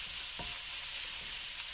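Onions for Croatian goulash fry to golden brown with a steady, even sizzle, marked by one brief scrape of a utensil.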